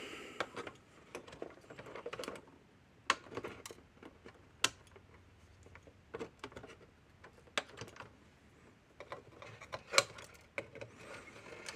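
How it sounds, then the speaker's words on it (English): Wire cutters snip excess component leads during repair of a solid-state electric fence energizer; a few crisp, sharp clicks stand out over quiet handling noise, with no talk. "All right, snip off the excess."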